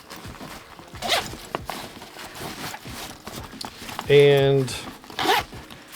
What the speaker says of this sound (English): Now there's the zipper. It goes all the way down to open it up.